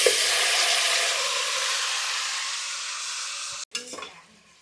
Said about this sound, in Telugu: ఇది కొంచెం వేగిన తర్వాత చికెను వేపేసుకోవాలి.